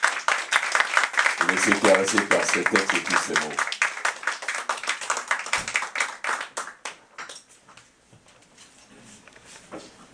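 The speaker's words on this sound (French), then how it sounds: "On applaudit, mesdames et messieurs." Audience applause for the performer Latson at an evening show, dense clapping that fades out over several seconds while a voice speaks over the start.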